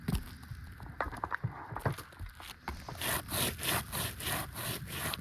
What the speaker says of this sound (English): You can hear the aggregate coming off.